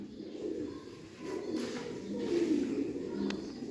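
A Heera Lal golden pigeon coos softly nearby in low, rolling murmurs that rise and fall over a few seconds, with a faint background hum.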